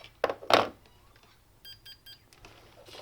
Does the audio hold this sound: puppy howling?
no